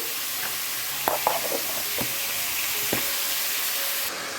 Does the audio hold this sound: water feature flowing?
no